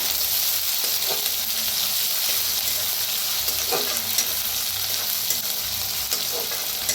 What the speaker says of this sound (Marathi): वाटण टाकूया जे आपण हिरवी मिरची, लसूण, जिरं चेचलेलं। भाजूया।